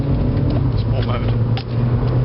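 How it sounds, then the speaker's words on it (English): Skoda Fabia vRS estate in sport mode, its turbocharger coming on: a steady, close cabin engine drone with a brief lift in tone partway through, with a voice faintly present underneath. "That's the turbocharger kicking in there."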